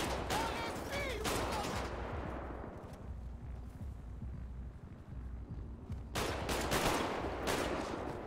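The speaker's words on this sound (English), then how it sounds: "Yo, why are you shooting at me?" Bursts of gunfire in the video game GTA 5 during roleplay, rapid clustered shots at the start and again near the end with a quieter stretch between.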